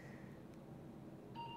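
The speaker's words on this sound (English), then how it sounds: "the beep means that the computer is recording it" After a quiet stretch of low background hum, a single short electronic beep from a MEG brain scanner's computer, signalling recording, sounds near the end.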